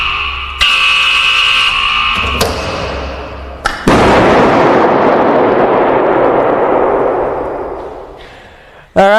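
A phone blowing up in an explosion experiment makes a loud broadband blast that starts suddenly, roars on and fades slowly over several seconds. Sharper bangs and tonal bursts come before it.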